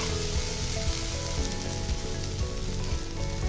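Leafy greens (napa shak) with turmeric sizzle loudly in a pan as they are stirred, a dense, continuous close crackle and hiss without any voice.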